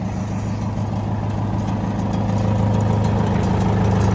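A Detroit 8V71 two-stroke diesel idles steadily close by, a dense low throb with a constant mechanical rumble and slight rises and falls in engine speed.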